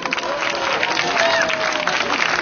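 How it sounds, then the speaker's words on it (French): Outdoor park audience clapping, a broad, fairly loud wash of many hands sustained throughout, with a faint crowd murmur underneath. "Applaudissez pour vous qu'on voit."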